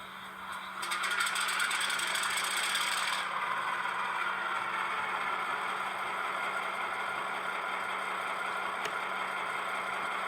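An ESU LokSound decoder in an HO-scale Westrail AB class model locomotive starts up, with an initial clattering burst giving way to a steady diesel idle hum, fairly quiet and unaccompanied.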